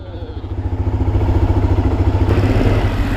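A motorcycle engine starts up close by and settles into a loud, rapid, pulsing idle that rises slightly as the clutch is dumped, with no talk.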